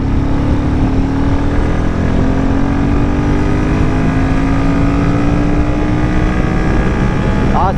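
A Royal Enfield Himalayan 450 motorcycle in 4th gear accelerates at full throttle, its engine note rising steadily in pitch under heavy rushing wind noise, loud and close throughout.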